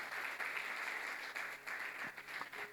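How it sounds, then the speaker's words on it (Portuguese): A church youth congregation at a theatre service claps in a short burst of applause, fairly soft and uneven, swelling and dipping over a few seconds. "Vamos aplaudir ao Senhor por essa equipe"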